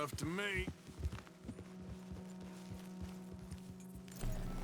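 Hoofbeats from a horse being ridden in Red Dead Redemption 2 thud in a regular rhythm under a low steady hum, with a short vocal burst at the start.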